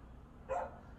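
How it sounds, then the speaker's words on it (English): A dog barks once in the background, a single short mid-loud woof within an otherwise quiet room. "the dog is barking in the background"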